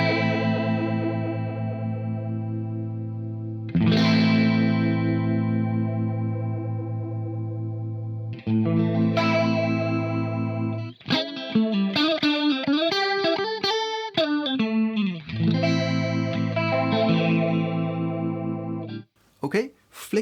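Universal Audio Astra Modulation Machine pedal on guitar, its manual sweep control moved across its range: sustained chords take on a shifting, swirling modulated tone with chorus-like wobble and echo, played alone and loud, with a brief pause near the end.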